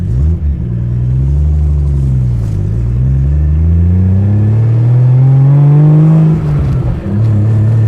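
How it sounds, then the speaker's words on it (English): A 1970 Triumph TR6 drives along with its engine rumbling loud and close. Revs rise and fall as the gearbox shifts from third down into second, with no voices over the engine. "You'll see I can downshift from third to second."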